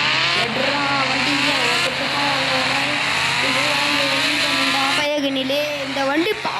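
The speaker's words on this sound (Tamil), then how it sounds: "இந்த வண்டி பாருங்க எடுத்த வண்டி ஸ்பீடு ஏற்றிருச்சு. 250 ஸ்பீடில் தான் போகுது நம்ம கவாசக்கி" Kawasaki motorcycle racing at high speed, a loud, steady high-pitched engine whine with slight pitch wavering, then an abrupt shift near the end as another burst of engine noise cuts in.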